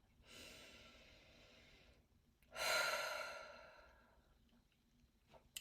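Slow, deep breaths are taken close by, a long soft inhale followed by a louder, drawn-out exhale, then quiet, with no talking.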